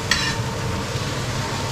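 Chopped wheat roti koththu being mixed with leeks on a hot griddle, with a steady close sizzle, a bright metallic scrape near the start and continuous stirring noise with no talking.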